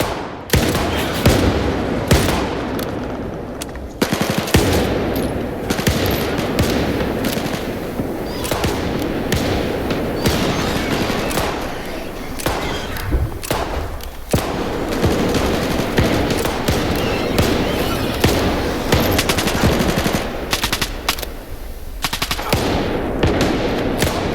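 Sustained automatic gunfire in a S.T.A.L.K.E.R. 2 cutscene, several weapons firing in loud overlapping bursts with brief lulls, crackling on for over twenty seconds without talk.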